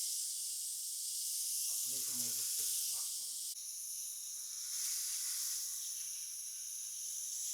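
A seasoned fish fillet searing seasoning side down in a hot pan outdoors, a loud continuous sizzling hiss with a brief bubbling sputter, steady throughout.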